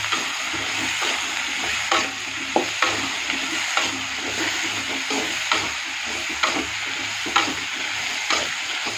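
Home-grown organic brinjal stir-frying in a pan, a steady close sizzle with scattered sharp crackles and stirring scrapes running throughout, no voices.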